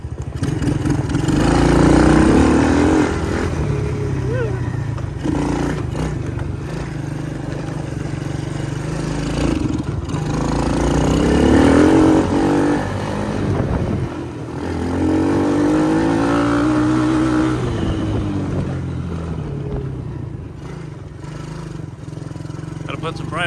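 A Chinese ATV engine runs steadily and rises in a few revs after the choke is taken off, a buzzy mid-pitched drone with someone talking over it.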